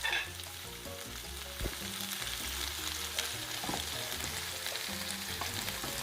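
Long green beans fry in a pan for pinakbet, sizzling steadily while being mixed, with occasional clunks and scrapes of the utensil close by.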